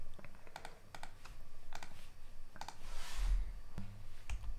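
Key presses on a computer keyboard during photo editing in Lightroom sound as a string of crisp, close clicks at an uneven pace, some single and some in quick pairs, over quiet room noise.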